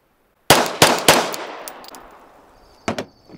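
Three loud gunshots from a firearm with a compensated barrel, the first at once and two more in quick succession, each with a sharp crack that rings off into a decaying tail, followed by two fainter bangs in the distance.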